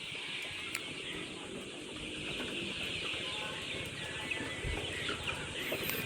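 Chickens clucking in a poultry house during warm weather, a continuous dense chorus of clucks and calls under steady background noise, with no talking.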